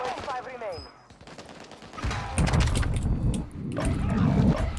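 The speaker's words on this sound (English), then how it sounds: "They're working their way up the hill, Jake. Taking effective fire." Gunfire in a video game, bursts of rapid shots rattling in two loud stretches, with a brief electronic tone and other game noise before them.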